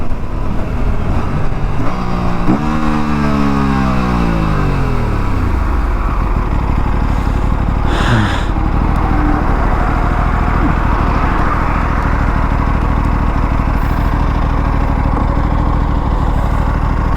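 An Aprilia RS457 motorcycle with an underbelly exhaust runs loud and close, its engine swooping through a falling revving sweep, then holding a steady, droning idle with a brief burst of noise midway.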